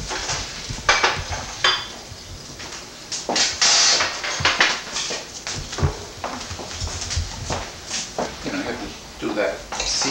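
Cutlery clinks and scrapes against a plate while food is cut at a Passover table, with irregular metallic taps and knocks under ongoing conversation.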